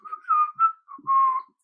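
A short run of high, breathy tin whistle notes, a few quick tones followed by one longer held note, played close and alone.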